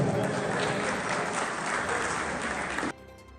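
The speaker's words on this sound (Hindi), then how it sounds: "एक दफा जोरदार तालियां, जोरदार तालियां।" A crowd at an opening ceremony for a dhol super league season in Phalia, Pakistan, gives loud, dense applause that holds steady and then cuts off abruptly, leaving only quiet background.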